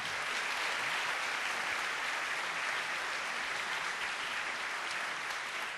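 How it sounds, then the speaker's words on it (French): An audience at an awards event honouring mothers claps steadily and loudly throughout, a dense even wash of applause with no talk over it. "Vous pouvez les applaudir bien sûr."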